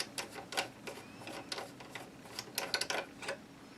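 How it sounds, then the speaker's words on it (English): The barrel nut of a Henry AR-7 rifle is unscrewed by hand, giving faint, close, irregular clicks and ratcheting ticks over several seconds with no voice. "you could hold the bolt back half an inch and start turning, unscrewing the barrel"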